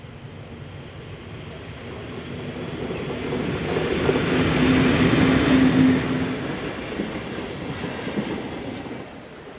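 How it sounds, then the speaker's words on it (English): A pickup freight train hauled by locomotive 42283 rolls along the Swiss main line near Olten, heading for the sidings at Wangen. The rumble swells as it passes close, wheels clattering over the rails, then eases away. "(42283) is operating this pickup freight and will work to the sidings at Wangen by Olten"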